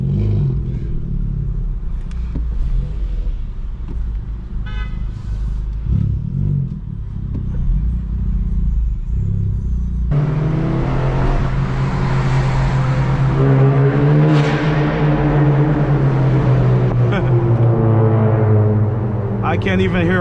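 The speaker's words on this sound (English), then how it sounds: "that's how loud these guys' cars are" Loud modified cars rev at a car show, several engines roaring and droning continuously close by, with a strong low rumble that grows heavier partway through as more revving builds.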